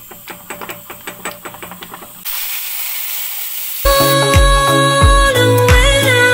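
Hot tempering is poured into salted yogurt with turmeric, bursting into a loud, sudden sizzling hiss for about a second and a half after light clinking. Music then takes over.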